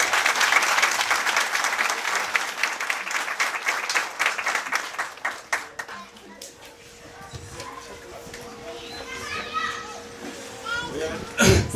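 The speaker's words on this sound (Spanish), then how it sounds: "Fuerte el aplauso para él." An audience applauds at a community ceremony, loud clapping for several seconds that fades out, followed by children's chatter and voices in the room.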